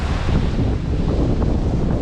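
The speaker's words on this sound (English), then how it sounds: "Wind picks up here every now and then." Wind from Hurricane Ian roaring steadily against the microphone in a flooded Naples, Florida yard, a dense, close rushing noise that fills the whole short stretch without a break.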